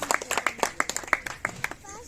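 A welcoming crowd gives sharp, rhythmic clapping for a newly elected mayor at an outdoor reception, fairly close and moderately loud, with faint voices mixed in briefly near the end.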